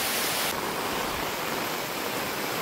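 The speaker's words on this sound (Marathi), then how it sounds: "हे बघा पाऊस बघा आणि वारा किती पडतोय" Heavy rain pours down with strong wind, a dense steady roar of water filling the whole scene, loud and continuous with no voices.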